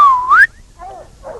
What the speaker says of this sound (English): When he whistled,